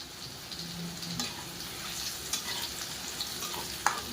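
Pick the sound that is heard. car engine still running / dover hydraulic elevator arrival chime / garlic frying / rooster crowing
garlic frying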